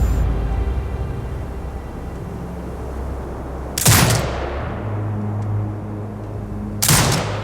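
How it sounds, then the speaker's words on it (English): A turret in the game Sniper Ghost Warrior Contracts 2 fires two heavy booming shots a few seconds apart, each trailing into a long echo over a steady low ambient hum. "Exit binocular mode and command the turret to fire"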